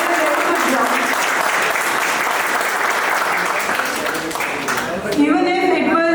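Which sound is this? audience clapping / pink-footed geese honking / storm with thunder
audience clapping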